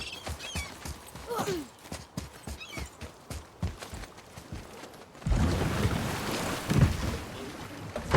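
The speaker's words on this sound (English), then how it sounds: "Keep rowing towards the statues of the oarsmen" In the video game God of War (2018), water splashes in a steady rhythm as oars pull a boat across a lake, with knocking strokes, then a louder wash of waves and wind near the end.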